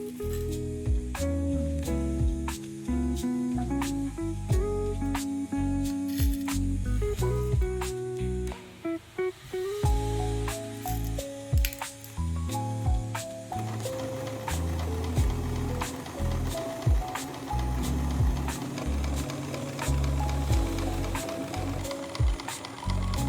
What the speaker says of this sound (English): I am basically now just going to sew all the way along here, leaving this section open.